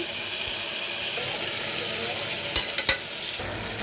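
Ground chilli paste sizzles and fries with cluster beans in a pan, a steady close hiss broken by a few sharp stirring clinks near the end, with no talking.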